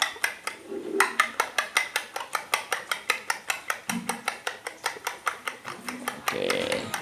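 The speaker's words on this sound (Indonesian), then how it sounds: "Nah, begini bos kalau mau kocok telur." Eggs for an omelette are beaten in a bowl with fast, steady rhythmic clinks of a utensil against the bowl, about six per second, fairly close and clear, with brief murmured voices at points.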